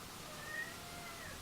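A domestic cat gives a single short meow partway through, faint against a quiet indoor background.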